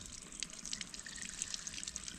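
Hot water runs from a tap in a steady, quiet trickle with small splashing drips scattered throughout.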